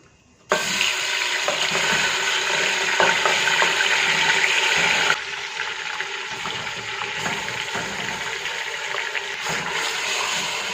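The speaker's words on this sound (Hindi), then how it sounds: "मैरिनेट किए हुए बीफ को इसमें शामिल कर देंगे" Marinated beef drops into hot oil in a karahi and bursts into a loud, steady sizzle that begins abruptly and eases slightly partway through, close and continuous with no talking.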